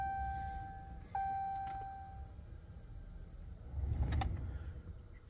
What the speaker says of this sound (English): Just going to prime the system there a couple times before we start.